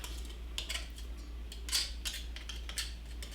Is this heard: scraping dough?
yes